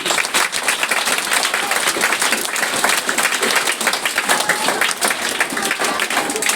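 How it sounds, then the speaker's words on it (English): A school audience claps for classes 7 and 8 after a student cultural dance and singing program, producing steady, dense applause that fills the whole stretch at an even level. "So let us give a good clap to class 7 and 8"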